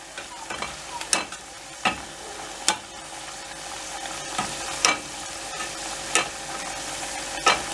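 Potatoes fry in a pan for homemade fries, a steady sizzle beneath repeated scraping stirs that come roughly every second, close and clear, with no talk.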